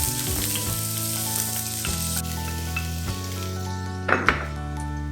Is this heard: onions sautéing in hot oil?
yes